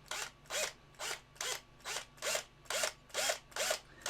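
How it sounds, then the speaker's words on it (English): A drill works into the underside of a resin model kit in a steady rhythm of about nine short, evenly spaced grinding strokes, faint and close with quiet gaps between them. "watch out that the drill is not gonna slip."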